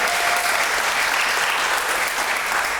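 Sustained, dense applause from a ceremony audience at a Pittsburgh EMS promotion event, steady clapping filling the room at close range throughout.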